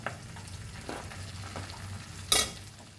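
Finely chopped onion frying in coconut oil over a medium flame, a quiet steady sizzle broken by a few stirring scrapes and one sharper clatter.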